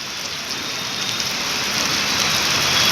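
Steady rain pours down across a surface, a dense, continuous hiss that swells slightly louder toward the end, with no voices.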